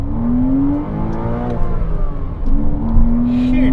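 A car accelerates in first gear at an autosolo event, the engine revving up in rising pitch sweeps, dropping briefly and climbing again, loud and close from inside the car.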